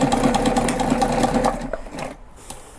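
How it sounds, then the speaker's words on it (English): Close and steady, a sewing machine runs a line of top stitching on a backpack for under two seconds before stopping, leaving faint room noise. "I'm going to top stitch this."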